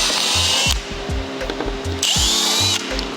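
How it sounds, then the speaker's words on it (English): A combi drill bores out plastic on a 2023 BMW M2 G87 front splitter, two bursts of high whining motor at the start and again near the two-second mark, with scraping and handling knocks in between; close and loud, no talk. "We'll then do the same thing with a combi drill"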